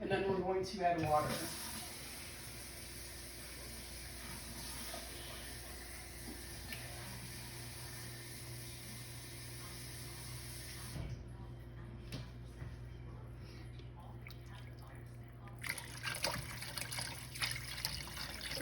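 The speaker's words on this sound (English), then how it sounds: "And then we're going to add water." Water being poured into a pot of chicken noodle soup that already holds chicken broth, a steady close trickle and gurgle running for several seconds in a quiet kitchen.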